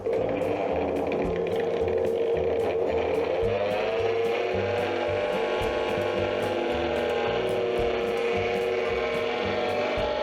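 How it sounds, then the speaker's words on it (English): A honey extractor loaded with nine uncapped frames spins in a beekeeping workshop, giving a steady mechanical whir with rattling, gear-like clicks that repeat at close range. No one speaks. "So the 9 frames spin like this until the frames are dry."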